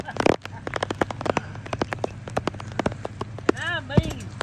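Rain coming down hard on a rainy day around an old Ford F150 truck, a dense steady patter of drops with scattered sharper hits and a brief voice-like sound near the end.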